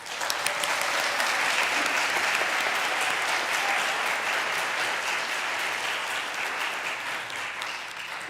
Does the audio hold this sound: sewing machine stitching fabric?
no